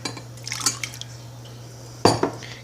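Boiled Coke poured into a small cup, giving a couple of short clinking, splashing bursts: a light scatter early, then a louder pour-and-clink near the end, with no talking.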